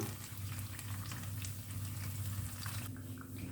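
Bananas deep-frying in oil make a steady, bubbling crackle that runs throughout, with a brief disturbance near the end as the pieces are flipped.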